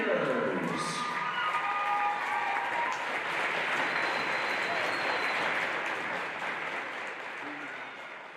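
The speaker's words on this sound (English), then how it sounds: "let's have one more big round of applause for our Cheyenne seniors" Applause from a crowd at a girls' high school basketball game honors the seniors, a dense, sustained clapping wash with some cheering that slowly fades over about eight seconds.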